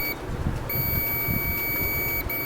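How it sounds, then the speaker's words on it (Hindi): A tester checking a fuse from a double door refrigerator emits a steady high-pitched electronic beep, continuous apart from a brief break, over a low background rumble. "फ्यूज़ क्या करता है, बीप दे रहा है।"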